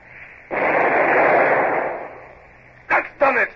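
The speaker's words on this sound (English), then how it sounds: "Well, fire a shot across her bows. Number 2 gun. A single shot across the bows." A single shot from a ship's cannon in an old-time radio drama, a muffled, booming burst that swells and fades over about two seconds, followed by short clipped bursts of a voice.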